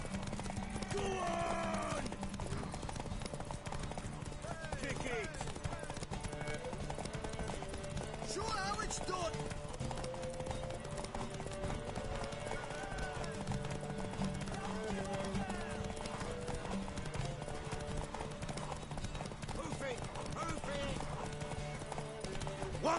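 Hooves gallop in a rapid, steady clip-clop during a horse race in the video game The Witcher 3, under loud voices, with a horse whinnying near the start and middle.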